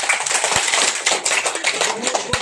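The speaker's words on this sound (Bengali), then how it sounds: "তালি দেন খুব জোরে।" Dense applause from an audience at an outdoor village assembly in North Narayanpur, many hands clapping hard in a steady, continuous roar with a few sharper claps standing out.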